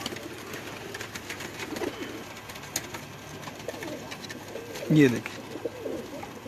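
Nawabi pigeons, a breeder's Tamtam breed, in a Lahore loft give low, soft coos through the background, with one louder burst near the end as someone speaks briefly.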